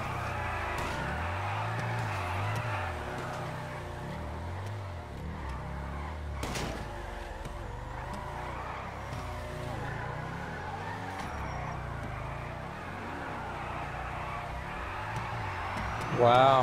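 Supercar in Grand Theft Auto V driving along, a continuous engine drone with rising and falling revs and a single sharp knock midway, while people talk over it.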